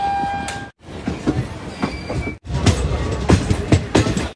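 Express train running on rails, with a loud, continuous rumble and rhythmic wheel clatter and a brief dropout in between.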